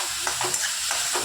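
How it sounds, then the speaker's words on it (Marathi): Onion and tomato sauté in a pan for cabbage bhaji, giving a close, steady sizzle broken by quick scraping stirs of a utensil. "असं परतून तो कांदा टमाटा आपण टाकून घेतलेला आहे"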